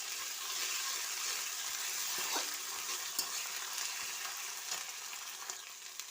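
Onion with garlic paste and ginger paste frying in a pan, a steady close hiss of sizzling oil with occasional stirring clinks and scrapes, no voices over it.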